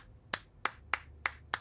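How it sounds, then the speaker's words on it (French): Five crisp, evenly spaced claps ring out in a quiet room at a kindergarten, sharp and close with short gaps between them and no talking. "Allez les enfants, applaudissons Audrey."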